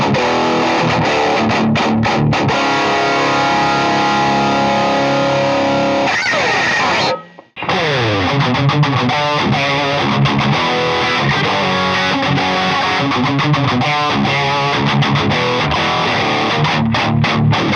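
A clean electric guitar played through a Revv tube amp and then through a Dynamis amp-simulation pedal, with loud, continuous ringing chords and notes, broken once by a short silent gap partway through before the playing resumes.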